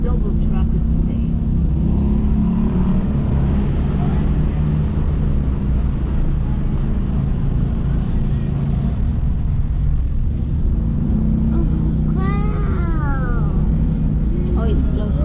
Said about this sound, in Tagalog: Double traffic today.